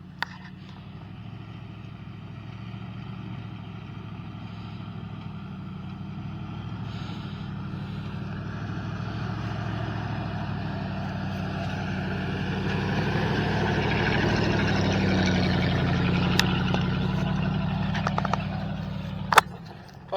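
An older pickup truck climbing an off-road trail in two-wheel drive, its engine giving a steady low rumble that swells gradually toward the end, with a sharp knock near the finish and no talking.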